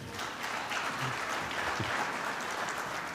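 Audience applause at an industrial sovereignty panel in Morocco, a steady broadband patter of many hands clapping that holds evenly throughout, fairly close and dense, with a few faint voices murmuring underneath.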